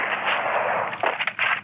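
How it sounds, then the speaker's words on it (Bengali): M10 gun fired for headshots in the Free Fire video game, a dense, continuous rattle of rapid shots that briefly breaks into a few separate bursts near the end. "দেখো ভাই M10-এর হেডশট।"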